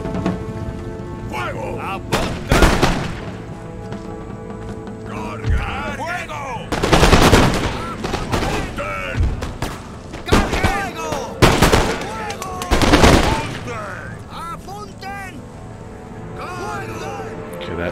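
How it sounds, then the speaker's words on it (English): Musket volleys and rolling gunfire crack in bursts during a battle in the strategy game Empire: Total War, with loud clustered fusillades over a continuous battlefield din and someone talking throughout. "Get up there, start shooting."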